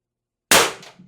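A single sharp crack from a Beeman BP50 air pistol firing a 1.2 g nylon bearing, loud and close, followed by a short fading tail.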